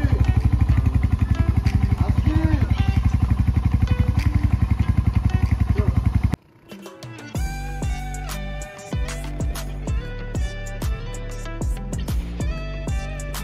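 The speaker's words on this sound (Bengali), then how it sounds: "আমরা বাইক নিয়ে বেরিয়ে পড়েছি" A motorcycle sets off on a road trip toward Belpahari in Jhargram. Its steady, close engine rumble pulses evenly for about six seconds, then breaks off into a different, rhythmic sound.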